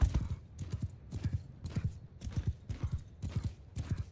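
A horse's hooves clip-clop in a quick, regular trotting rhythm in Mount & Blade 2 Bannerlord, the clear strikes evenly spaced and moderately close, with no talk over them.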